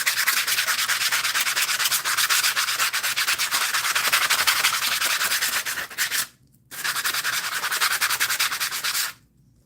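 A scrubbing pad rubbed hard and fast across gear, a dense rhythmic rasping scrub that runs continuously, breaks off briefly, then resumes before stopping near the end, close and loud with no talking.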